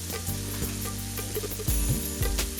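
Paneer masala with garam masala powder being stirred in a pan, soft sizzling under a series of spoon scrapes and knocks, the heavier thumps clustering toward the end, close and moderately quiet.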